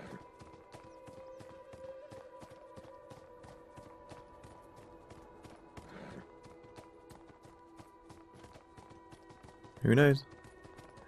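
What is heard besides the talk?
horse hooves clip-clopping in Beyond: Two Souls video game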